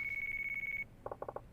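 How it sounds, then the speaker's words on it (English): A phone rings in the Yakuza 4 video game: a steady electronic ringtone trill for under a second, then a few quieter lower chimes, with no talking. "that's my phone."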